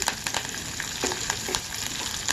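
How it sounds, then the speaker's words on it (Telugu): Green chillies and torn curry leaves drop into hot oil with a seasoning of dals, setting off a steady close sizzle punctuated by small pops and spatters. "పచ్చిమిర్చి, కరివేపాకు తుంపుకొని వేస్తున్నాను ఫ్రెండ్స్"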